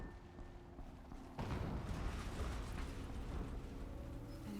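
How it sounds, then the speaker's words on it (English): Explosion in the video game Horizon Zero Dawn, a sudden low boom that opens into a sustained rumbling roar over steady game ambience. "An explosion."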